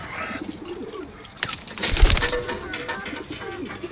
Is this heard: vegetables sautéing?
no